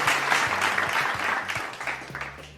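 At a televised cooking competition, a studio audience keeps up warm, steady applause, with clear individual claps standing out near the microphone as the clapping gradually fades.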